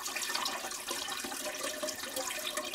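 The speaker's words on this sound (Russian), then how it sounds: "В этом процессе используется холодный душ." A cold-water shower sprays steadily over paddlefish roe being rinsed and cleaned, producing continuous hissing, splashing water with no pauses.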